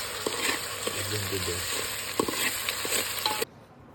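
Chilies and tomatoes fry in a pan with a steady, dense sizzle, punctuated by occasional stirring clinks, close and continuous until it cuts off abruptly near the end; no talking.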